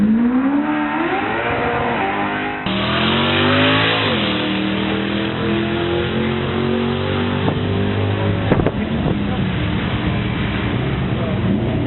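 A quarter-mile drag race car accelerates hard at Cayuga Speedway, Ontario, its engine revving loud and rising through gear changes with a harsh, sustained roar, crowd noise faintly underneath.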